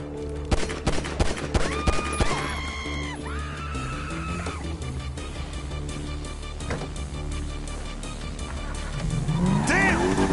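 In GTA 5 story mode on PS5, a car roars and accelerates while bursts of gunfire crack and rattle around it, with a siren-like wail rising and falling and an engine surge swelling near the end.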